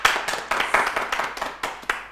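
A game-show audience in Bishkek claps in quick, uneven bursts of applause. The clapping is close and fairly loud, with no talk over it.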